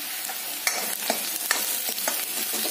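Chopped onion sautéing in oil in a pan for a paneer tikka masala, a steady soft sizzle broken by scraping stir strokes of a spoon against the pan, close up and with no talking.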